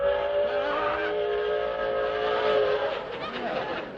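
A train whistle sounds in a long sustained tone with layered pitches, then fades out toward the end, with no speech.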